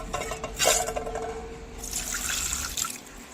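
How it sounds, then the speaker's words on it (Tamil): Water pours onto tamarind in a bowl to soak it, a short close splash and trickle followed by a lighter running stream, with no talking. "இந்த புளியை இப்போ நம்ம ஊற வச்சுக்கலாம்."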